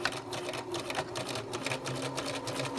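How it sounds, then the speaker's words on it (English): A sewing machine runs a straight stitch along bodice shoulder seams, a continuous close, even mechanical whir with a rapid regular needle patter, no voices over it. "I'm going to just use a straight stitch and my half inch seam allowance, and I am going to sew those shoulders together"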